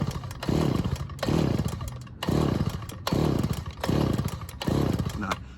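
Six rhythmic pulls on the starter cord of a small engine, each a raspy whirring surge followed by a brief pause, close and fairly loud, with the engine never catching.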